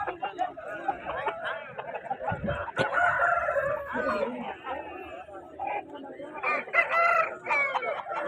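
Fighting roosters crow at the Punganur rooster market, several harsh calls rising over a busy crowd of chattering voices and people talking nearby.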